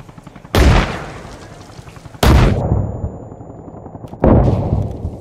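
Three heavy explosions in ARMA Reforger during a night-time assault, each a sharp, loud blast with a long rumbling decay, spaced about two seconds apart, matching frag grenades set off to blow through a fence.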